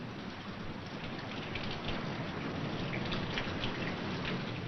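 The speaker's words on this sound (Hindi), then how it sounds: "ये आषाढ़ की वर्षा तो मेरे लिए काल हो रही है।" Heavy Ashadh monsoon rain pours down without pause, a dense, even, loud hiss of countless drops that fills the whole stretch with no voices.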